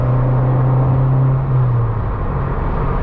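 A Ford Fiesta Zetec S with a new exhaust burbles on the road, a loud, deep, steady drone that holds continuously with a slight dip midway, with no talking.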